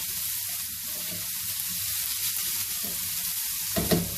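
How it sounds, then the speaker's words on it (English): Chopped onions sauté in a pan with a continuous close sizzle, joined by soft scraping stirs and a brief louder clatter near the end. "Add the chopped onions and saute your onions well."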